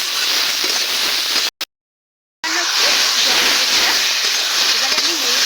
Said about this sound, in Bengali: মশলাগুলো কষিয়ে নেওয়া হয়ে গেল। এবারে আমি জলটুকু দিয়ে দেব।